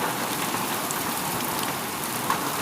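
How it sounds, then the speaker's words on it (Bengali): Heavy rain with light hail falls in Mecca, a dense steady hiss of drops on hard surfaces, loud and continuous with a faint tap near the end. "মক্কাতে ভারী বৃষ্টি বর্ষণ হচ্ছে দেখেন।"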